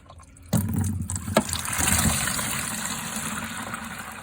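Dirty water is poured out in a steady, close gushing splash that starts abruptly and keeps flowing with a slight trickle as it tapers.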